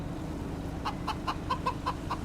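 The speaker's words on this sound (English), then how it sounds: "We got 90 chickens." Chickens in a large flock of about 90 hens in the Farming Simulator 25 video game give a quick, evenly spaced series of about seven clucks over a steady low farm hum.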